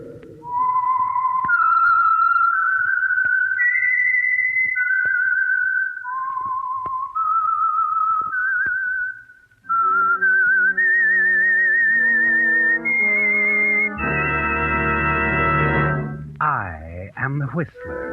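A lone melodic whistle plays a slow wavering tune, clear and prominent, then gives way to swelling orchestral music.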